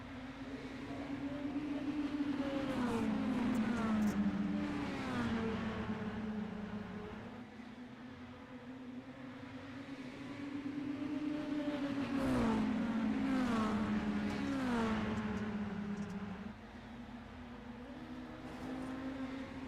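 Mini stock race cars in an iRacing league heat, engines droning steadily with rising and falling pitch as the pack circles the track, swelling and fading in waves, no talk.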